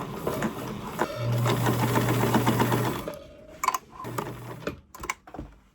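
A sewing machine runs in a steady burst of stitching on a scrap-fabric bucket bag, then stops; shorter machine runs and handling clicks follow, close and fairly loud with no talk.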